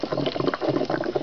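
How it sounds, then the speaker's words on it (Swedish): A 31-plate HHO generator running on 24 volts bubbles vigorously in a 10% KOH solution, making a loud, dense, continuous frothing gurgle up close with no voices. "som vi kan se och höra så bubblar det frenetiskt och bra"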